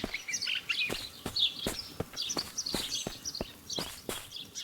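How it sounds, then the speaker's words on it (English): In the Guayota video game, birds chirp and twitter busily in the background while steady footsteps crunch along in a regular rhythm, all fairly close. "Birds are chirping really loud."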